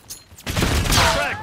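Sustained gunfire in Call of Duty Black Ops 6 hardcore team deathmatch breaks out after a quiet moment, a loud, dense burst of shots with ringing, whining tails close up.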